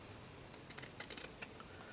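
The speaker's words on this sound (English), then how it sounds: "I'm actually going to trim this while it's on the doll" Small scissors snipping fabric to trim a button doll's dress, a quick cluster of soft, close crisp cuts in irregular rhythm, faint and alone.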